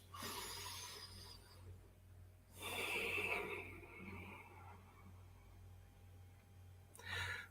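Breathing during guided group meditation, with a few slow, soft audible breaths, longer exhalations near the start and middle and a brief one at the end, faint and close in a quiet room.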